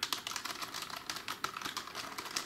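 Rapid typing on a generic, non-clicky computer keyboard in a home office setup, a steady close patter of soft keystrokes with no voices.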